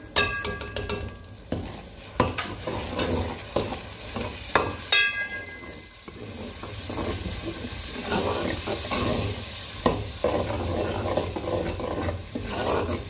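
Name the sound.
frying and stirring ground spices in a pan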